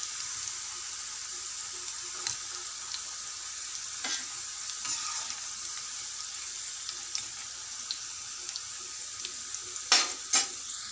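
Bitter gourd frying in hot oil while being stirred and turned, a steady soft sizzle with occasional scraping clicks and a couple of louder clatters near the end.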